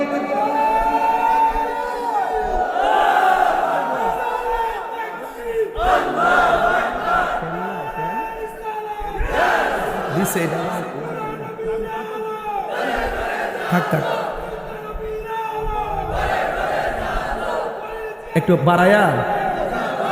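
A crowd at a religious gathering chants a slogan loudly in unison, voices swelling in repeated rhythmic waves over about twenty seconds, with a preacher's voice talking over them.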